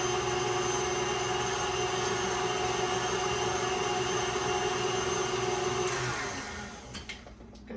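An electric mixer whirs steadily through cookie dough with egg yolk and vanilla, a constant close drone that winds down and stops near the end, with a few faint knocks afterward.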